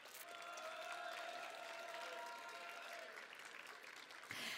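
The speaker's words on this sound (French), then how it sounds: "Et on s'applaudit, bien sûr." Applause from a gathering at a regional high school students' literary prize ceremony, a dense, even clapping that holds steady for several seconds before tailing off, with a sustained tone running underneath.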